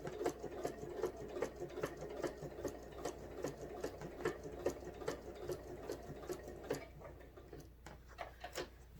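A sewing machine stitches in the ditch along a quilted seam, running in a steady rapid mechanical patter with brief pauses and restarts, close and fairly loud, with no talking.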